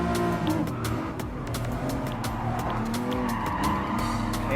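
Nissan Fairlady Z 300ZX twin-turbo rear-drive car racing in Gran Turismo Sport, with a steady loud engine drone and repeated tire squeals and skids throughout, other race cars nearby.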